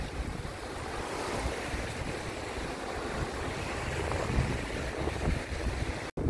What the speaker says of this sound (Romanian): Au început valurile. Briza își spune cuvântul.